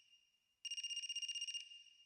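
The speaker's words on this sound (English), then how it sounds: "Is that... a phone ringing?" A phone rings in the video game AI: The Somnium Files: a rapid electronic trill of about a second, starting abruptly over a quiet steady tone and then dropping back to that background, with no talking.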